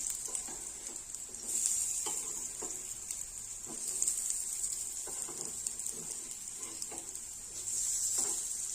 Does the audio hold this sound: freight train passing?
no